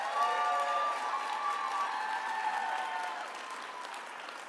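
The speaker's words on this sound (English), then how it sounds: "Another round of applause for our amazing MC, Maggie Erickson-Kilgannon." Applause from a gala audience fills the room, steady clapping that carries throughout and thins slightly toward the end.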